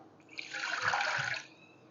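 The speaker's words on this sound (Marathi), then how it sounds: "त्याच्यामध्ये आपल्याला पाणी घालायचं" Water pours steadily into a pot for about a second, a brief close splashing rush that starts and stops cleanly, with no talking.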